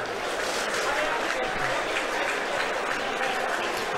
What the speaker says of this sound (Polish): Brawa, brawa, brawa dla piłkarza Ruchu